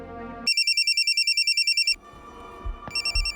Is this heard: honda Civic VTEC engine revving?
no